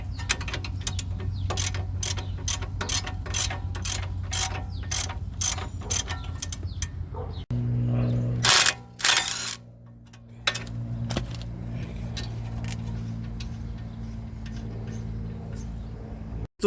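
Car suspension bolts being removed with a ratchet, a quick run of sharp rhythmic clicks, then a pause, heavier metallic clunks and a brief loud burst before quieter mechanical handling.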